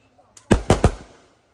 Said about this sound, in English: Christmas fireworks.